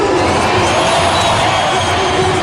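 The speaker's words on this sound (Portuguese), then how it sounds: "O aplauso ao Pedro Raul" Stadium crowd at a Corinthians versus Novorizontino football match applauding player Pedro Raul, a dense, loud, continuous roar of clapping and cheering without gaps.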